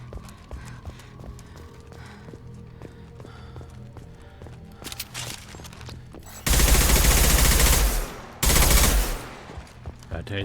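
Gunfire in Mass Effect 2 Legendary Edition: two loud, dense bursts of rapid weapon fire, about two seconds then one second long, break over a quieter game soundscape with rhythmic clopping and scattered clicks.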